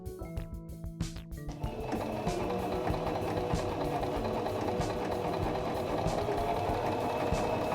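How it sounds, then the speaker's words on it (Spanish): A Singer mechanical sewing machine stitches fabric and a zipper, starting with a few separate clicks and then settling into a steady, close, continuous whir of fast needle strokes. "baja nuevamente el prensatelas para terminar de coser"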